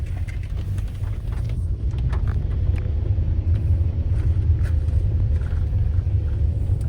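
A car grinds up a steep mountain road near Mussoorie in traction mode, its engine giving a steady, loud low rumble and road noise throughout, with no talking.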